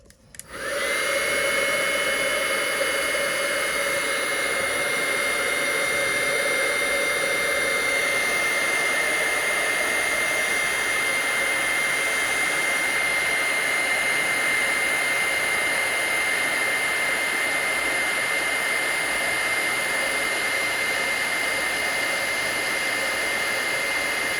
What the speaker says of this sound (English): I'm going to heat this up with my heat tool